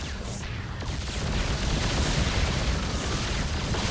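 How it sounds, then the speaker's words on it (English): A Yamato cannon blast from a Terran Battlecruiser in StarCraft, heard as a loud, sustained, roaring explosive rumble that fills the whole stretch and swells slightly toward the end, with no voices. "The cannon blasted to pieces."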